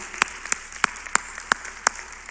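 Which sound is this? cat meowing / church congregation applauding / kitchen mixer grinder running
church congregation applauding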